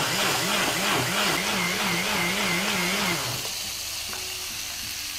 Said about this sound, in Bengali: এটা এখন মিহি করে ব্লেন্ড করে নিতে হবে